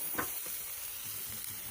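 Salmon backbones sizzling as they fry in a pan, a steady close hiss and crackle with a few brief pops and no talking.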